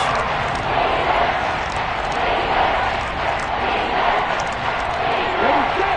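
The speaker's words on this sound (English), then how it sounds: "The crowd getting into it as we come up on a big 3rd down." A Kansas City Chiefs home crowd fills a football stadium with a steady roar that rises ahead of a big third down, while a commentator talks over it the whole time.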